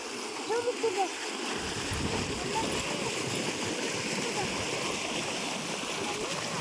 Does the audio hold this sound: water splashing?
yes